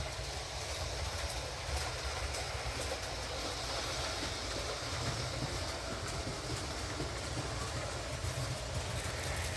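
A Triang Big Big O scale model passenger train runs along its rails after repair, a continuous close rolling rumble with faint clicking wheel noise, no voices.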